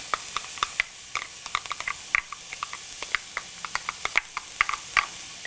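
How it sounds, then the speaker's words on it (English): Half a medium onion sizzles in a pan for Mexican cauliflower rice, a soft steady hiss broken by frequent sharp pops and crackles, close and fairly quiet. "That was again half of a medium onion"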